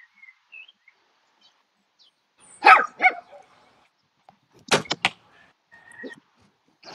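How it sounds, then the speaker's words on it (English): Sharp single dog barks ring out twice at a distance during a quiet shooting match, with short gaps of near silence between them and a faint bird call. "did the bark of the dog distract Aida there"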